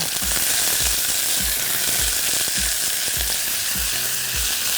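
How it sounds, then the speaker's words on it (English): Onions frying in hot spiced oil give a loud, steady sizzle, while a spoon stirs them with regular dull knocks against the pan about twice a second, close and with no voices. "So my onions are going to go in. I'm going to give that a stir."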